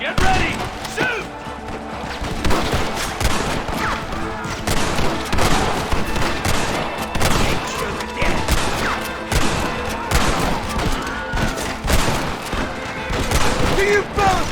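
Heavy gunfire in Red Dead Redemption, a sustained loud volley of overlapping rifle and pistol shots cracking steadily through the whole stretch, with shouting voices caught up in the firefight.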